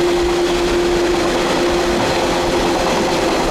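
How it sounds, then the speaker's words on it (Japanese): A Tokyo suburban commuter train runs in a steady, loud rumble with a low engine drone and a faint sustained tone throughout, with no talk. "まあ、東京の近郊電車ね、"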